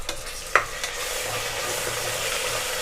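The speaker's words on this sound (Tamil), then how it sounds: "இஞ்சி பூண்டு பேஸ்ட்டு போட்டு பச்சை வாசனை போகிற அளவுக்கு நல்லா வதக்கிடலாம்." Ginger garlic paste sautéing in a hot pan for vegetable biryani, a steady close sizzle and fry with a few sharp clinks of a spoon stirring near the start.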